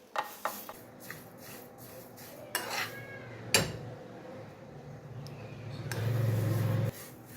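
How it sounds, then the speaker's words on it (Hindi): Whole spices are dry roasted in a pan for a pea pickle, with a few metallic clinks and scrapes from stirring early on, one sharp knock, then a soft, brief rustling roast near the end. "ये देखें मसाला हमारा रोस्ट हो गया"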